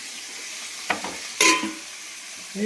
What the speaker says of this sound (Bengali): এদিকে কড়ার তেল গরম হয়ে গেছে। এবার ওর মধ্যে কি করব, আমি ডিম ভাজি করব।